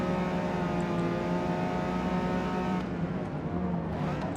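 Racing cars in Forza Motorsport 8 with a Toyota MR2 passing: a steady, loud engine drone with layered harmonics, then a shift in tone as one car pulls by close.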